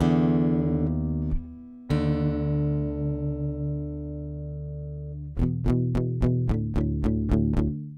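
Gibson J-185 EC Rosewood acoustic guitar with Fishman Aura Pro preamp being retuned to drop D: a low string rung and bent in pitch, then several repeated plucked notes checking the tuning, close and clear with no talking.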